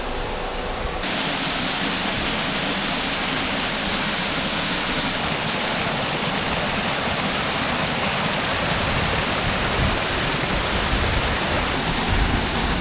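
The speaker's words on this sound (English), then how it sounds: "they've got this waterfall" A waterfall in the middle of Grenada pours steadily at the end of a rocky track, a dense, loud, unbroken roar of falling water that fills the whole stretch without pause.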